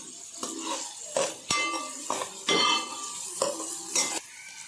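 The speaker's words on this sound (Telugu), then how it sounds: "అన్నిటిని బాగా ఫ్రై చేసుకోవాలి" Vegetables for veg fried rice being stir-fried in a pan, with a steady sizzle broken by repeated scraping and clinking strokes of a spatula against the metal, close and clear with no talking.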